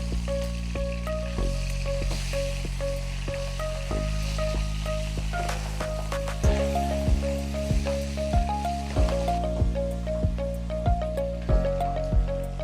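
Pabda fish sizzle steadily in hot oil in a pan after being flipped, a loud, continuous frying crackle with scattered sharp pops and a tonal hum running through it.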